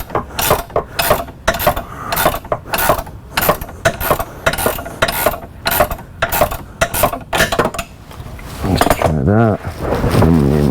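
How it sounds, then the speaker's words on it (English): A ratchet tightens bolts on the differential of a Dodge Challenger, clicking fast and close in repeated bursts of a dozen or more strokes. A steadier mechanical whir comes in near the end. "And then the differential, I can torque all these bolts"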